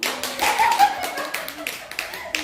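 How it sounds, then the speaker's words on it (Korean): A church congregation claps together, a dense, steady patter of many hands filling the room for a couple of seconds. "박수."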